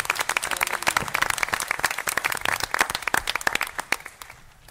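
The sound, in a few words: applause for staff at a council debate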